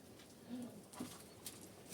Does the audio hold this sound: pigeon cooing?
yes